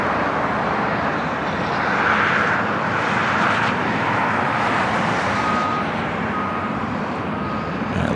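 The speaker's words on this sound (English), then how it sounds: "A330-300 heading to Honolulu, taking off here on the north side" An A330-300 airliner takes off from the north side of LAX, bound for Honolulu. Its engines give a loud, steady roar that holds for the whole stretch.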